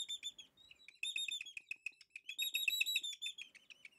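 Bright, rapid chirps and warbling song of a thrush and a tit, repeated in quick bursts, close and clear with no other sounds.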